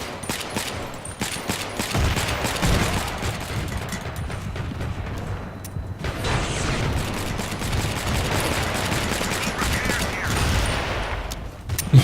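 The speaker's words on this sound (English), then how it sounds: "Anyways, this is the pistol. Again, a suppressed pistol." A suppressed pistol firing in the video game BFHD Pro 2 with a US Marine Corps loadout, repeated muffled shots amid a dense, noisy battle background of other gunfire and booms, with talking over it.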